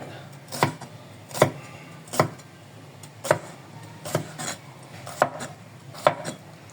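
Knife slicing through peeled sayote (chayote) on a cutting board, seven crisp chopping strokes at a steady, slightly uneven pace, close and clear with no talk.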